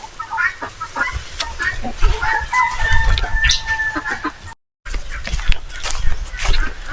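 Chickens on a small farm, with a rooster crowing and hens clucking over several seconds, set against outdoor background noise and a brief dropout.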